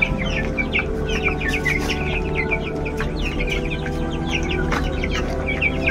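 A flock of tiger-breed chickens clucks and chatters continuously, many overlapping near and mid-distance calls over steady farm-shed background noise.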